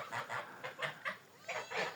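Geese honk in a quick series of nasal calls, about seven in two seconds, somewhat distant and fairly quiet.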